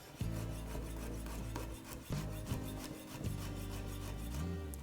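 A knife rocking and chopping garlic on a wooden cutting board in a kitchen, with dense, rapid rasping strokes mixed with low tonal hum throughout, close and steady with a few sharper knocks.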